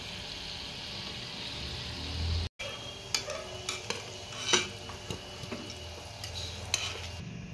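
Wheat-flour gulab jamun fry in hot oil with a steady, close sizzle, broken by a brief gap and scattered light clinks of a utensil against the pan; no one speaks.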